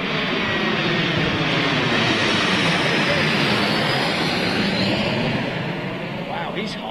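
Airplane flying overhead at London Heathrow Airport, a loud continuous jet roar that fills the whole stretch and fades a little toward the end, heard outdoors.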